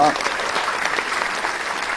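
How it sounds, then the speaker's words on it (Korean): Listeners at a Korean-language lecture on reunification give sustained, even applause, a dense wash of clapping filling the short moment after the talk ends. "다 같이 큰 박수로 박수 해주시고"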